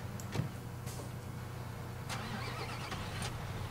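A truck engine starting in the Construction Simulator 2015 video game: a quiet mechanical crank and low, steady idle hum with a few faint clicks, heard alone at low volume.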